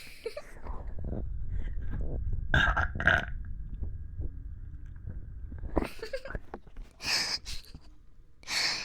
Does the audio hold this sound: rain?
no